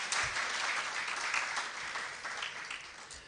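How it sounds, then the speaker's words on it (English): Audience clapping at the official launch event for scaling Nigeria's plastic economy, a continuous dense patter of many hands with slight swells, no talking over it. "please a round of applause, please"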